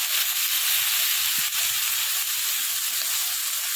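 Vegetables with turmeric and salt frying in a pan in a village kitchen, a steady loud sizzle and hiss with occasional soft scrapes of stirring, no voices.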